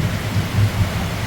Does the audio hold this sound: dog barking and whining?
no